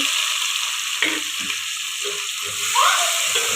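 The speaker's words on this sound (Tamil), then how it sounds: "நாலு பூண்டு போட்டு நல்லா வதக்கணும்" Onions, curry leaves, dried chillies and tomatoes sautéing in a pan, a steady close sizzle with a few soft stirring knocks and scrapes layered over it.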